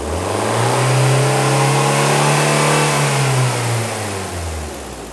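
Close and loud, an engine on a school engineering demonstration revs to higher RPM, holding a strong droning rise for several seconds before it begins to settle back down.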